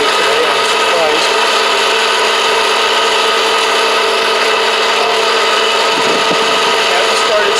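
An air popcorn popper roasting coffee beans to about a city roast gives a steady, loud, unbroken whirring roar of hot air and rattling beans that holds constant from start to finish.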